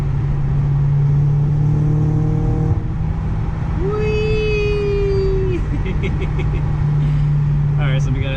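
Audi B6 A4 fitted with a full ECS catback exhaust cruising at night with the windows rolled up, a steady low drone and hum running throughout, a rising tonal whine midway, with people talking over it.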